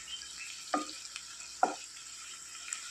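Chopped tomatoes softening in a pan over a low simmer flame for egg chammanthi, a faint steady sizzle with a couple of brief sharper pops and stirring clinks.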